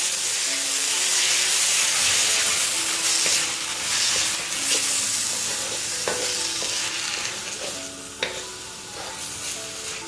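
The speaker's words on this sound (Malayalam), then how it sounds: "തീ കൂട്ടി വെച്ചിട്ട് വറുത്തെടുക്കാം." Cauliflower rice stir-fried on high heat for a keto mushroom fried rice, with a steady loud sizzle and hiss and intermittent scraping and clinks of a spatula against the pan throughout.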